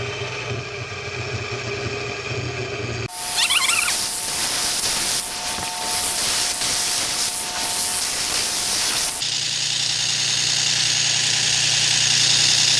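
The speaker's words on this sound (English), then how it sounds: "we'll cut it and do all the shaping on the grinder" A bench grinder shapes a Damascus steel guitar pick, giving a loud, steady broadband grinding hiss that runs continuously through the middle of the clip, with quieter machine hum before and after.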